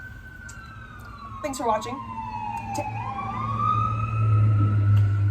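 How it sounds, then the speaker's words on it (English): An emergency vehicle siren wails outdoors, its tone rising and falling as it grows louder over a few seconds, with someone speaking briefly beneath it. "Oh, sirens."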